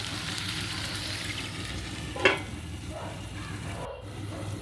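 Vegetables frying in a pan give a steady close sizzle as they are stirred, with one sharp clack of the utensil against the pan partway through.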